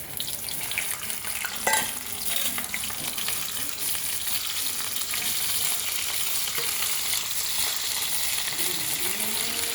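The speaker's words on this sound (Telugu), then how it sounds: "మూత పెట్టకుండా మీడియం ఫ్లేమ్లో ఉంచి ఇలా వేగించుకోవాలి." Pieces fry uncovered over a medium flame, producing a steady, moderately quiet sizzle with occasional stirring scrapes and a brief knock early on, no speech.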